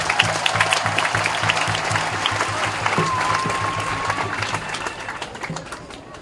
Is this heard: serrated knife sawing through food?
no